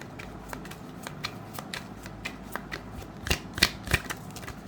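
Tarot cards are shuffled alone in a quiet room, a steady run of soft riffling flicks that ends in a few sharper, louder snaps as the deck is bridged.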